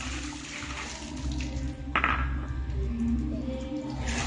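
Water gushes and splashes as dirty water is poured out and a bowl is rinsed, with a sudden pour around the middle over a steady background of running water.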